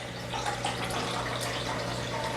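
Cold water poured into beef broth in a kitchen while making Philly cheesesteaks, a steady close splashing pour running unbroken without talk.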